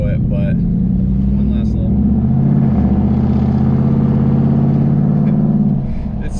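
A pickup truck with a true dual cat-back exhaust and 6x18 tips revs loudly up close, a deep rumbling engine note rising and holding steady before easing off near the end.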